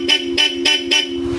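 A Bosch Europa horn fitted on a Yamaha Aerox scooter sounds four short, evenly spaced toots, loud and close, each a bright two-tone blare with a sustained lower tone running between them.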